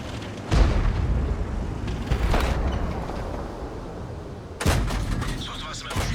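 Tank cannon shots fired in World of Tanks by a Skoda T25, three heavy booms spaced a couple of seconds apart, each with a long rumbling tail.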